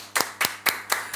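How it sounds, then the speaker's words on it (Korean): Slow, rhythmic clapping in a church worship service, five distinct claps spaced evenly, sharp and close, with a faint steady hum underneath. "박수로 우리 하나님께 영광 돌릴까요?"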